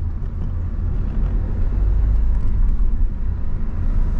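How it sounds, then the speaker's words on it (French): Car accelerating from a standstill during a driving lesson, a loud low engine rumble that builds and holds steady, heard from inside the cabin with no talking. "On accélère."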